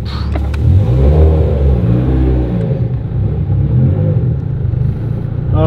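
A Mitsubishi Evo X accelerating hard through long gearing, its engine droning loud and close with a steady rising tone, and no talk over it.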